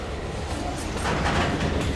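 Freight detour train passing on the Iowa Northern line, a steady distant rumble of rolling wagons with faint rhythmic rail noise.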